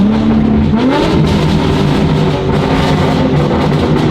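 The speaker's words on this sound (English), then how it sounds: "I've been driving in my M mode without the exhaust button, so now with pops." Steady engine note of a BMW G80 M3 with aftermarket midpipe and downpipes, with a revving rise and crackling exhaust pops running throughout, loud and close.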